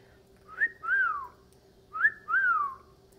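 A bird whistles two rising-and-falling phrases, each a short sweep followed by a longer gliding note, clear and fairly close against a quiet room hum.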